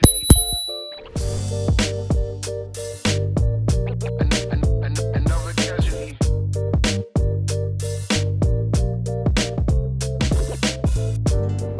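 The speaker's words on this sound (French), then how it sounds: "Et ici j'ai la sonnette." An electric scooter's bell, on an Apollo City Pro, rings repeatedly in quick, bright dings, close and loud, with lingering metallic tones between strikes.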